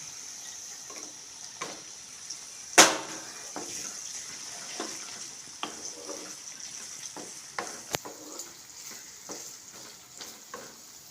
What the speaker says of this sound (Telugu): కొంచెం ఇలా వేగిన తర్వాత మనం పచ్చిమిరకాయలు వేస్తున్నాం.